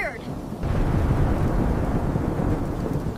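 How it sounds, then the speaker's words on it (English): Heavy thunder rolls with pouring rain, a dense, loud, continuous roar that swells after a brief faint opening and holds steady to the end. "That thunder is loud."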